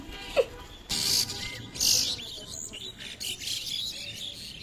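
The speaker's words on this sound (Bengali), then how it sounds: "শালিক পাখি ছোট ছানাগুলা ওতে খানা চাইছে" Myna chicks call for food with short, bright chirps that come in bursts over steady outdoor background noise, and a few louder calls stand out close by.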